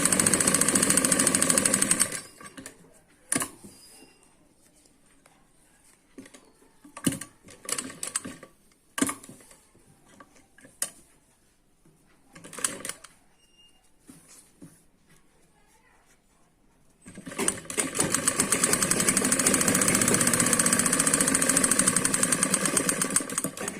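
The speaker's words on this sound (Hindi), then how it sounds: "और फिर सिलाई लगाएंगे।" A sewing machine stitches a Punjabi suit, running in loud, steady whirring bursts at the start and again at the end, with quiet handling sounds and pauses in between.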